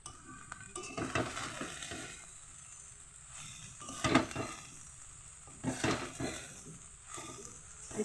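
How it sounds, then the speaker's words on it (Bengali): Leafy greens frying in a pan with salt give a quiet sizzle broken by several louder bursts of stirring and utensil scraping against the pan, spaced a second or two apart. "শাকটা একটু আমি ভাজা ভাজা করে নিচ্ছি"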